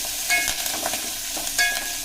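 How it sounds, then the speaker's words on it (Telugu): Spices for pepper rasam fry in a hot pan, a steady close sizzle broken by a couple of stirring scrapes, with no voices. "కొద్దిగా ఎర్రగా వేయించుకోవాలి."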